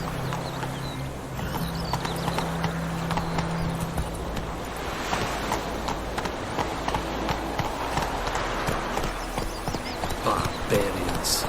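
Hooves of Geralt's horse Roach galloping in The Witcher 3: Wild Hunt, a fast steady clip-clop running through the whole stretch with wind and game ambience beneath, no talk over it.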